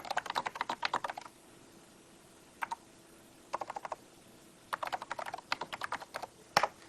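Typing on a NeXT computer keyboard in bursts of rapid, crisp key clicks, close and fairly quiet, separated by short pauses.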